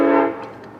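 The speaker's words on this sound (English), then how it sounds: "we have a train going by again." A passing train sounds a loud horn blast that quickly fades into a low rumble over less than a second, with no voices.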